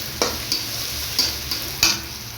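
Onions fry in a pan under a soft continuous sizzle while a utensil scrapes and taps against the pan in several quick, distinct stirring strokes, close and clear.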